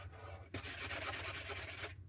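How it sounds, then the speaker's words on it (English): The edges of a wooden door hanger are sanded by hand in a brisk, scratchy rub that starts abruptly and continues for over a second before stopping. "a little sanding here and there will not harm it or make it look weird."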